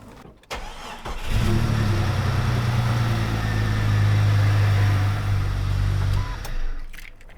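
A Jeep XJ engine with a freshly swapped power steering pump pulley is turned over without firing, a steady loud cranking drone lasting about five seconds before cutting off, with no talking.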